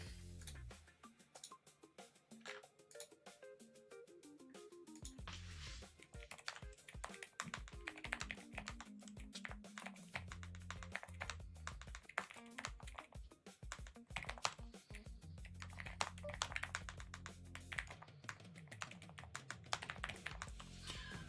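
Someone types steadily on a new computer keyboard, a quiet close run of crisp key clicks and taps. The rhythm stays uneven, with occasional heavier strokes and short pauses, and no one speaks.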